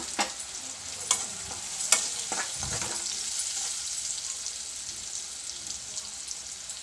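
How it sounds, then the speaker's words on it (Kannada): Okra masala frying in a pan after chili powder and salt go in, a steady sizzle with a few sharp stirring scrapes early on, close and fairly loud with no talking. "ಸ್ವಲ್ಪ ಉಪ್ಪು ಹಾಕಿ ಫ್ರೈ ಮಾಡಿ."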